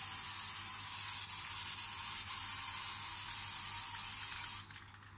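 Aerosol spray paint hisses steadily onto a BMW E30 brake caliper, a continuous close, loud spray that runs for several seconds before cutting off abruptly near the end.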